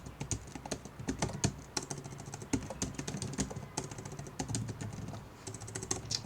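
Rapid, continuous clicking of typing on a computer keyboard, close and steady with uneven bursts of keystrokes and no talking.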